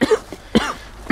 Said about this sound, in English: It's hay related, my coughing.